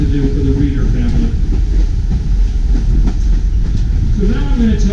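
Passenger rail cars on the New Hope and Ivyland Railroad roll steadily along the track, a loud, continuous rumble with faint clickety-clack and creaks heard from on board.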